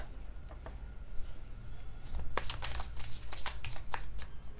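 Tarot cards being shuffled by hand, a soft riffling start building into a rapid run of crisp papery flicks and slaps up close.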